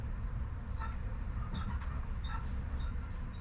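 A GySEV Stadler Flirt electric commuter train in Hungary rolls past with a low steady rumble, light squeals and clatter from the wheels, nearby and continuous.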